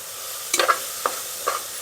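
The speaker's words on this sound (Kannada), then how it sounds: "ಅರಿಶಿನ ಪುಡಿನ ಹಾಕಿ ತಿರುಗಿಸ್ಕೊಳ್ಳಿ" Turmeric powder being stirred into capsicum rice masala in a pan, a few quick scraping strokes of a spoon over a faint sizzle, close and brief.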